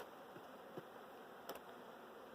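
Honeybees buzzing faintly during a hive inspection, a soft steady insect drone with a couple of brief nearby ticks and knocks, no talking.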